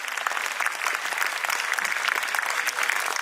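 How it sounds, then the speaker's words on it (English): Audience applause at a school annual day celebration for primary and pre-primary students, a steady dense clapping from a large crowd filling the hall throughout, without voices. "let's first give them a big round of applause for our students and participants"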